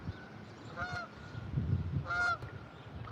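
Geese honk twice in close succession, with nasal bursts spaced about a second apart over a low background rumble, faint and at a moderate distance.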